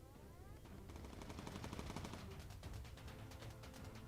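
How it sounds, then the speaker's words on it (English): Enemy aircraft machine-gun fire in the Bomber Crew game, a fast rattling stream of shots that grows denser and more rapid partway through over a steady engine drone, fairly faint overall. "He's shooting up our midsection there."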